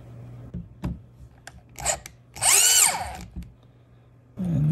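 A power drill drives screws into a Honeywell RTH9585WF thermostat base on the wall, with brief taps and then a loud, close whirring spin of about a second that rises and falls, followed by another short burst.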